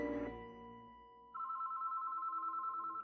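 Telephone ringing as a sound effect, a faint tonal chord fading out and then a steady electronic trilling ring that continues evenly, heard alone without voices.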